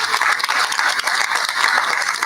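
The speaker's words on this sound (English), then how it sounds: "let's give this entire staff a huge round of applause" Audience applause at a university board of supervisors meeting, a loud, dense burst of many people clapping together, continuous through the whole stretch with no talk over it.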